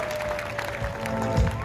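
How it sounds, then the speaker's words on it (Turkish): Audience applause at an award ceremony following a final match, a brief steady wash of clapping from a crowd, moderately loud and continuous. "Çok kuvvetli bir alkış alalım lütfen"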